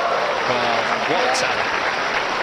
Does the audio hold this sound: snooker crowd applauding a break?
yes